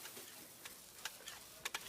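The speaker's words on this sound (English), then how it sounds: "this cheesesteak is so freshly grilled, you can still hear it sizzling" A cheesesteak sizzling on a hot griddle, a steady crackling hiss with a few sharp clicks and scrapes of a spatula near the end.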